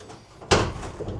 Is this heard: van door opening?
yes